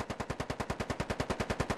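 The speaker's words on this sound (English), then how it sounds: "Oh, they're shooting at Idukin" Rapid automatic gunfire in the military shooter game Squad, a steady, fast burst of about twenty evenly spaced loud shots, close and continuous, with no talking over it.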